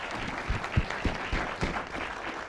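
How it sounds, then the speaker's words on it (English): Audience applause for volunteers at a business school entrepreneurial challenge event, a steady wash of clapping from a crowd with a few louder nearby claps standing out. "So give them a round of applause for donating their time today."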